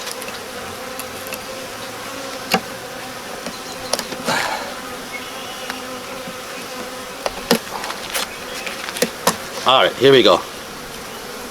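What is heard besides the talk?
honey bees buzzing during bee package installation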